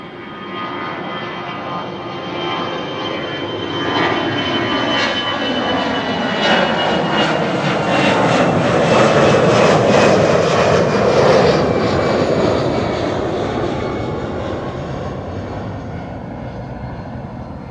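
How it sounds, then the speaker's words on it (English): A business jet comes in at Amsterdam Schiphol Airport, its engine roar swelling steadily from a distance to a loud, broad whine near the middle, then easing off slightly as it passes, with no talking. "BizJet coming in"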